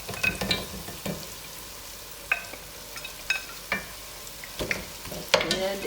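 Pre-cooked beef dropped into a hot pan and stirred, with a steady sizzle under a series of sharp scraping and clattering strokes from the spoon at irregular intervals.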